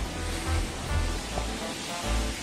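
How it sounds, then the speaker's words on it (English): Steady, full-bodied roar of rushing water from a waterfall at Elephant Point, Mainpat, heard close by, constant and loud with no talking. "ये था हमारा थर्ड waterfall."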